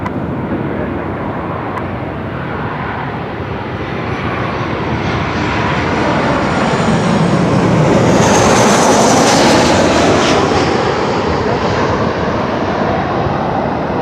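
A Qantas airliner lands at Melbourne Airport, a broad jet roar that grows louder as it passes nearest midway and then fades slightly, heard from a distance outdoors with no talk.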